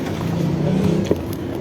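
Inside a moving bus, a steady low engine drone and road rumble fill the cabin, with one brief knock partway through and no talk.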